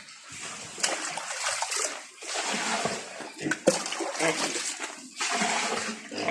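Water runs from a tap on a farm in broadband splashing bursts that come and go, with a clear pause and a brief knock partway through, close and moderately loud.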